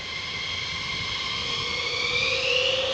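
A military fighter jet takes off from RAF Lakenheath airfield with a loud, sustained engine roar that builds in strength and pitch.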